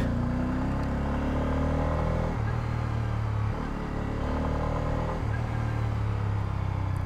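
A Bajaj Pulsar F250 motorcycle on a test ride hums with a steady low engine drone, its pitch dropping and rising with gear changes, close and continuous under wind noise.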